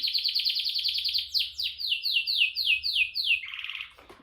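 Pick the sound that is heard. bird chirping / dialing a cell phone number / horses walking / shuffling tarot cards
bird chirping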